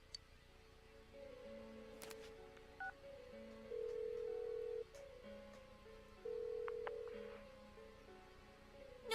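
A phone call rings out in Persona 4 Golden: a run of steady electronic telephone tones, several short beeps and longer held notes, plays clearly over quiet game background ambience with no talking.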